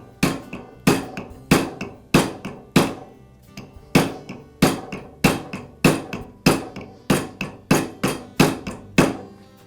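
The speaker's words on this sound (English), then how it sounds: "I'll just use my rubber mallet and carefully tap the bearing onto the shaft until it seats against the" A rubber mallet taps a bearing onto the armature shaft of a DeWALT chop saw motor in a steady run of about twenty firm, close blows, spaced roughly half a second apart, with no talking.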